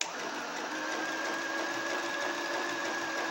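An Incasa Compacta sewing machine runs continuously while winding a bobbin, making a steady whirring hum with a constant high whine, close and uninterrupted.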